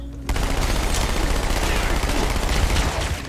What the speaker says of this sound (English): SMG pretty good.